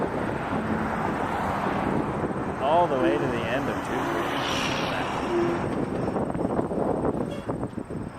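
Boeing 777-300 airliner from Athens at Toronto Pearson Airport, a steady roaring jet engine rumble with wind buffeting the microphone, heard under talking and radio chatter.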